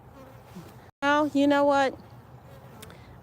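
Honey bees buzz close by during a beehive inspection, a loud droning hum that cuts in and out in two bursts, with someone speaking briefly before it.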